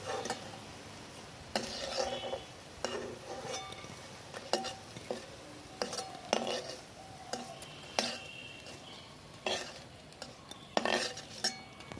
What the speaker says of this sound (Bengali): দেখুন লাল করে আমার ভাজা হয়ে গেছে এবার আমি তুলে নিচ্ছি